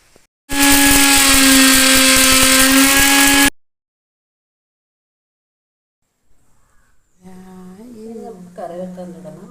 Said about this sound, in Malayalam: ഇത് ഒന്ന് മിക്സ് ചെയ്ത് നന്നായിട്ട് പൊടിച്ചെടുക്കുക